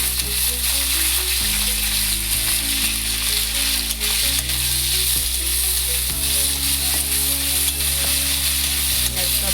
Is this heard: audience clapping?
no